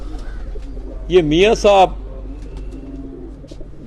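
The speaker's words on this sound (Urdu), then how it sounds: "اب اس کبوتر کو آپ دیکھیں دوستو" A rooftop pigeon in Gujrat, Pakistan gives a short, close coo lasting under a second, with someone speaking around it.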